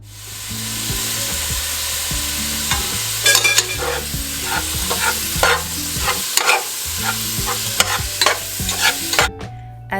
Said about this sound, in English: As my meat is cooking,